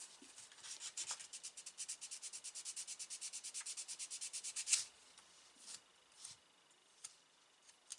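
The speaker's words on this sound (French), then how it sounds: "Quand je gratte mes pièces, je gratte pas avec la lame. Déjà pour éviter d'esquinter trop la lame, je gratte avec le derrière." Scraping model car parts for a BMW M6 GT3 kit with the back of a craft blade, a fast run of rhythmic, close dry scratching strokes that slows into a few separate scrapes.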